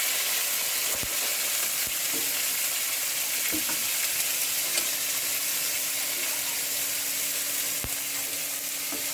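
Garlic and onion are stirred in a hot pan, a steady even sizzle running throughout with several sharp spatula knocks and scrapes at irregular intervals.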